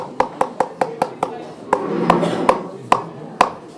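Dill is mixed into a cream and starch base during a cooking demonstration, heard as a run of about nine sharp utensil taps in an uneven rhythm, with a softer scraping swell in the middle.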